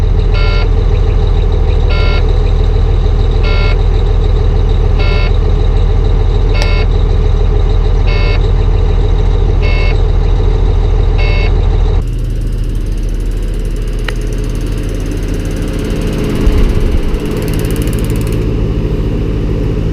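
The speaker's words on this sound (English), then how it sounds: "My heat pump doesn't sound too happy." An iced-up outdoor heat pump running out of balance during a Louisiana cold snap, a loud steady mechanical drone with a regular rhythmic beeping pulse for the first stretch, then a rougher, lower rumble continuing alone.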